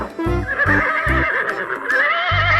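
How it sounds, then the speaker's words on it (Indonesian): A white horse neighs in a long, loud, wavering whinny, close up, while low rhythmic thumps pulse underneath throughout. "Wow, ada kuda putih nih teman-teman."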